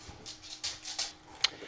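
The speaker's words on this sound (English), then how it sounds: "The dogs are playing, so it's going to get loud." Dogs playing indoors, a few short scrappy yips and huffs with light clicking, close and moderately loud over a quiet room.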